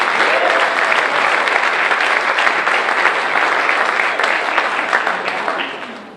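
A crowd gives a loud, continuous round of applause for a couple who drove 1,000 miles, dense clapping that holds steady for several seconds before tapering off at the end.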